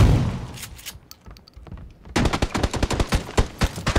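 Gunfire in a video game squad fight in Novo: a few scattered shots and thuds early, then a fast, loud burst of rapid automatic fire with sharp evenly spaced cracks for the last two seconds.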